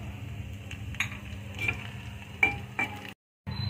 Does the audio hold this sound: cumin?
yes